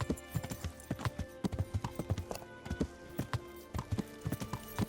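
Horse hooves clip-clopping steadily in the medieval video game Kingdom Come: Deliverance, a brisk repeated rhythm of close, sharp hoof strikes with a faint whinny-like tone underneath and no talk.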